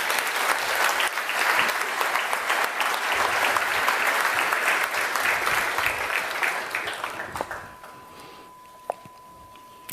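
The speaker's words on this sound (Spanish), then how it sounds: "Aplausos, por favor." An audience at a university ceremony in Peru applauds with sustained, dense clapping that swells and then tapers off toward the end, leaving a quiet room with a faint hum and a couple of isolated taps.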